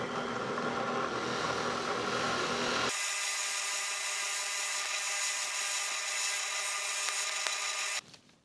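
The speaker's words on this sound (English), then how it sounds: "You can use mechanical means to sand Magic Sculpt, just like you can with hand sanding." A power sander works over hardened Magic Sculpt epoxy clay with a steady, close abrasive whir that shifts to a brighter, thinner tone partway through and then cuts off.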